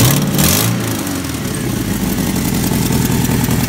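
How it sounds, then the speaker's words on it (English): A Ford 351 Windsor V8 in a Fox-body idles with an exhaust leak, giving a close, rough, chuffing rumble that quickly settles into a steady, uneven idle. "Don't mind the exhaust leak."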